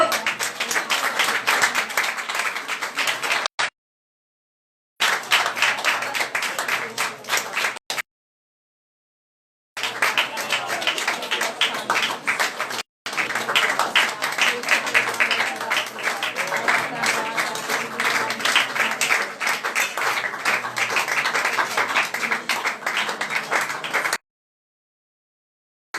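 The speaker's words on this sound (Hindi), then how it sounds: "ताली बजाते हुए" A church congregation at a Palm Sunday worship meeting claps loudly in welcome, in dense sustained bursts of applause broken by several short silent gaps.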